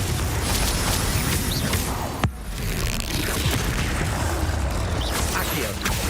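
A Confringo spell blast from Hogwarts Legacy lands as a sudden sharp boom partway through, standing out above a dense, continuous rumble of battle effects.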